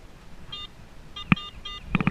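A metal detector in a field sounds short, clear high beeps, a few spaced tones early on followed by a quick run of repeated pings at the end, close and fairly loud.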